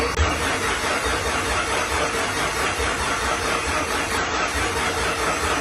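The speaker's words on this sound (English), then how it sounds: "Listen to how bloody fast it cranks over now." A car engine cranks over quickly on its starter and fires up in an engine bay with a turbo build, a steady, loud, dense mechanical whir filling the whole stretch with no voices over it.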